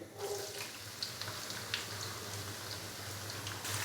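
Finely chopped onions fry in ghee for a Lahori chicken chole curry, giving a steady close sizzle and crackle with scattered pops and no voices.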